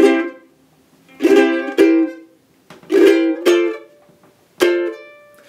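A ukulele plays a short ragtime phrase: a few bright strummed and picked chords in an uneven rhythm, each ringing out briefly, close and clear with no talking.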